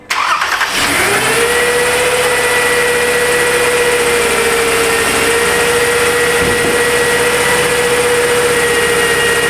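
A 2011 Toyota Sienna engine cranks briefly and catches, then settles into a steady, loud idle with a continuous whine on top and a small dip midway; no one speaks.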